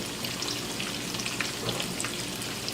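Spam slices fry in a pan over medium-high heat, giving a steady, close, crackling sizzle with dense fine pops throughout.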